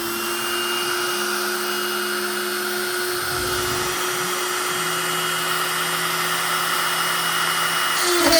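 A CNC router cuts a piece of wood for a serving tray, giving a steady, loud, close whine with a grinding edge that shifts pitch slightly as the bit moves through passes, running alone throughout.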